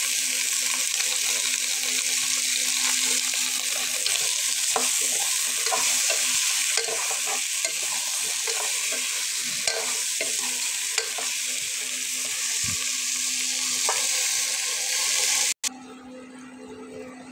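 Sweet pumpkin fries in a pan with a steady, close sizzle that runs almost unbroken for the whole stretch, with faint stirring scrapes over it and a sudden cut near the end.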